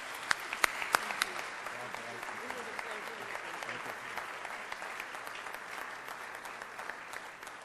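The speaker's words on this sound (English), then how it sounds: "please join me in a round of applause for our outgoing president, Renee." An audience at an induction ceremony claps in steady, sustained applause, a dense patter of hands filling the room from start to finish with a few sharper claps standing out early.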